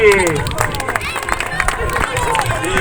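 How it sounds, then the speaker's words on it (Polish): Applause and cheering from a crowd at a youth football tournament for children born in 2015, with claps and shouts blending into steady noisy hubbub, with voices calling out throughout. "Wielkie brawa dla drużyny ze Słowacji!"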